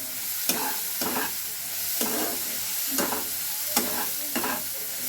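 Food stirred in a hot frying pan gives about half a dozen distinct scraping strokes roughly once a second over a steady close sizzle, with no talking.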